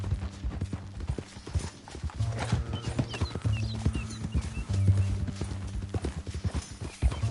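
A horse clip-clops steadily while being ridden in a PS4 western video game, its quick rhythmic hoofbeats running throughout under a low game hum, with brief soft whinny-like tones.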